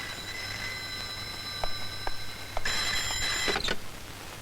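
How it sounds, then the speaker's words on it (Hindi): A telephone rings at a police station in the 1995 Hindi film Baazi: a steady electronic trill that grows louder and denser near the end, then cuts off. Nobody speaks. "अमर साहब आपका फोन"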